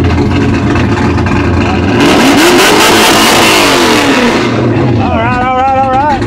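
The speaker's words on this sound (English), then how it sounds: "I know you like V8 sounds" A V8 engine in an EarthRoamer expedition vehicle revs up loudly with a rising, rolling roar, then settles back to a steady rumble, alone without talk.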